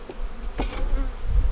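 Honey bees buzz around a hive on a sunny day, a steady, close drone of many wings with no voices.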